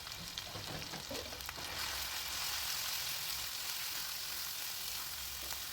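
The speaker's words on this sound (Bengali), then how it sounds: "এবারে মশলাটাকে একটু সময় নিয়ে ভালো করে কষিয়ে নিতে হবে" Ground turmeric and coriander masala fries in a pan for a chicken curry, giving a steady, loud, close sizzle that runs unbroken for the whole stretch with no talking.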